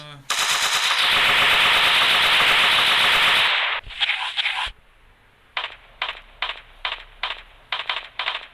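A gun going off by itself, first in a long, loud continuous burst of fire, then after a short gap as a string of separate short bursts.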